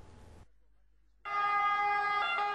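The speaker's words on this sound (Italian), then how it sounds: "Le sirene hanno squarciato il silenzio del paese." Emergency vehicle sirens wail through a small town in the Treviso area, a sustained loud, tonal blare rising abruptly after a brief near-silent gap and holding steady to the end.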